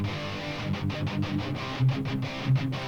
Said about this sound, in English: this is the sound of the Kemper.